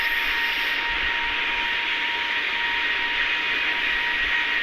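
A jet airliner landing in Al Nafah, with a steady loud whine and broad roaring hiss of the engines held throughout, no talk over it.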